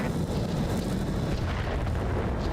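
Mech weapons firing in BattleTech RogueTech, a dense, continuous roar of heavy booms and blasts layered together, loud and rumbling throughout with no clear gaps.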